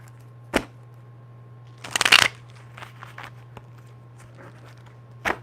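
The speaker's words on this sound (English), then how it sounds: "That was a terrible shuffle." A deck of cards is shuffled once in a short riffle burst, with a few soft taps and card handling clicks around it in a quiet room.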